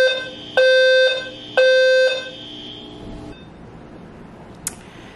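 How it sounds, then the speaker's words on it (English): A building fire alarm under test sounds two loud, steady electronic tones, each lasting about half a second with a gap between, then its ringing trails off into quiet room noise with a brief click at the end. "They're testing a fire alarm today."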